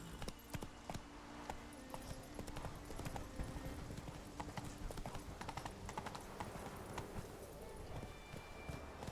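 Roach, Geralt's horse in The Witcher 3: Wild Hunt, gallops with a steady, fast clip-clop of hooves that runs close and loud from start to finish, over a constant game ambience.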